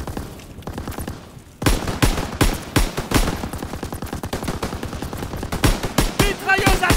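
Sustained machine gun fire in the World War II shooter Call of Duty WW2, a loud, rapid stream of shots with bursts of other gunfire over a mountain battle, continuing without pause.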